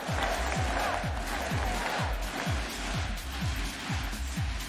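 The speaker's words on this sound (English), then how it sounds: "Crowd certainly rallied up here." Stadium crowd at a VALORANT Masters grand final, a dense roar of cheering and applause with rhythmic low thumps of clapping or stomping repeating about every half second, loud and sustained throughout.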